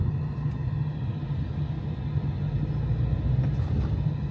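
Heavy road traffic with many cars streams along a busy road on a mountain route toward Naran in Pakistan before sunset, a continuous low rumble of engines and tires without breaks or voices.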